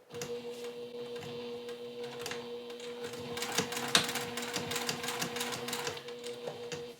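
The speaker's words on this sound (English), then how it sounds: "We are just sewing from one curve all the way up to the other." A sewing machine stitches fabric along a curve, a steady close mechanical whir with rapid needle ticking and a low motor hum, growing busier toward the end.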